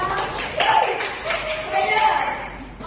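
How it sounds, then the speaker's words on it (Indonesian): Seventh-grade students in a classroom clap for the second group, a short burst of scattered hand claps with a few sharper slaps, heard under overlapping children's voices and talk. "Oke, tepuk tangannya dulu dong untuk kelompok 2."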